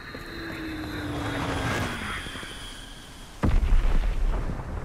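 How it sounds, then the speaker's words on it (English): A bomb going off in Call of Duty: a plane drones overhead, then a sudden loud blast lands past the midpoint and leaves a rumbling roar behind it. "Enemy bomb incoming."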